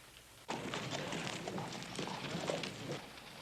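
Horse hooves clip-clop in a quick, steady run of dull thuds on hard ground, starting abruptly and carrying on for a few seconds at moderate distance.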